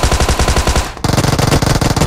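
Rapid automatic gunfire in a mobile battle royale game, loud and close, one fast burst, a brief pause, then a second sustained burst, with no talk.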